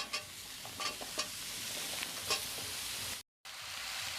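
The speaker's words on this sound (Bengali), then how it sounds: "কুমড়োগুলি অল্প ভাজা হয়ে গেছে" Pumpkin pieces fry in a pan with cumin and radhuni spice pastes, giving a soft continuous sizzle with light stirring scrapes and clicks, then a brief cut to silence before the sizzle returns.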